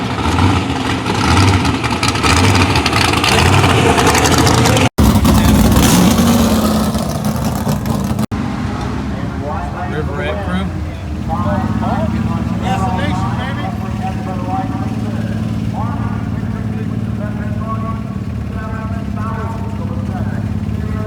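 A 1957 Corvette engine at a vintage drag race, loud and close, with a broad rumbling idle that rises and swells and a sharp burst partway through, while people talk over it.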